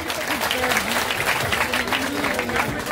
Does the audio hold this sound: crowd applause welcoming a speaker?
yes